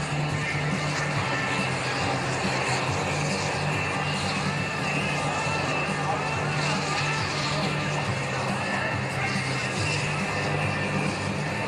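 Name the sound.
Tucano airplane engine starting up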